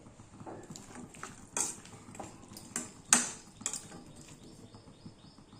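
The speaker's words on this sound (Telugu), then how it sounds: "సాల్ట్ వేసుకొని మూత పెట్టుకోవాలి." A metal lid set onto a cooking pot while preparing a sweet potato and mushroom curry, with several sharp clanks and clinks of metal on metal at uneven intervals over faint kitchen background noise.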